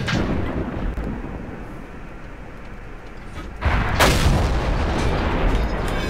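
A tank gun fires in the World of Tanks game, an M18 Hellcat shot landing as a sudden loud boom over a steady rumbling engine and battlefield drone, with the blast trailing off into continued noise.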